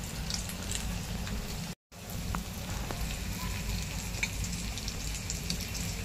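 Pea cutlets sizzle in hot oil over a medium flame, a dense steady crackle and hiss close by, with a brief gap partway through and no talking.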